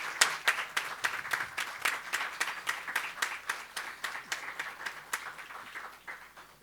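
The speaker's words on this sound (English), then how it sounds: "Let's have a big applause round." Applause from an audience at a ceremony, a steady run of brisk, moderately close claps that continues evenly for several seconds without talk.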